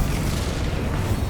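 Confringo fire-blast spell cast in the Hogwarts Legacy video game, a dense rumbling boom that fills the short moment at steady loudness, heavy low-end burst with no voices.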